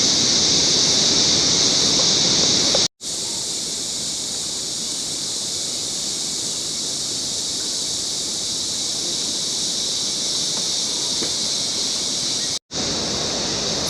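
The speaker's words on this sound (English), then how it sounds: "So now we can start to hear the roar of the waterfall in the background." A continuous broadband roar from Barron Falls, a waterfall in a Far North Queensland rainforest, heard as steady rushing water that fills the whole scene, with two very brief dropouts.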